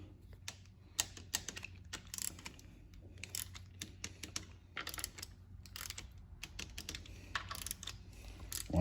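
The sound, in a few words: torque wrench tightening transmission valve body bolts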